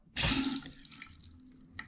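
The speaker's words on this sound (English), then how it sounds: "Now I'm just gonna turn a faucet on and make sure that it's off and let the pressure off." A house faucet is opened and water gushes out loudly for a moment, then eases into a weaker, sputtering flow as the line pressure drops after the supply has been shut off.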